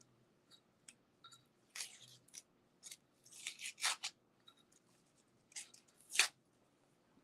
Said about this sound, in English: then I want to remove the tape from the sides.